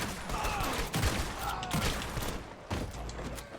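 Rapid gunfire from a coach gun shotgun in the Red Dead Online western game, several sharp blasts scattered through a busy burst of shooting and mechanical clatter, with faint talk underneath.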